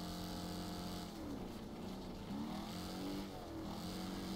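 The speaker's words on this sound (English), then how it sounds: "it sounds like the engine's going to fall out" Car engine in the racing game Wreckfest labors and strains steadily, its pitch bending up and down as it revs and shifts, loud and continuous with no talk over it.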